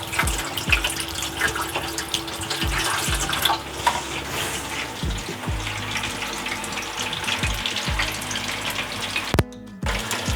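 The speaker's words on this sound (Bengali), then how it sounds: "একবারে বেশি দেওয়া যাবে না, একটু অল্প অল্প করে দিয়ে ভেজে নিতে হবে।" Gondhoraj chicken pieces deep fry in oil in small batches, a loud, dense, continuous crackling hiss close by, with occasional low thuds and a short dropout near the end.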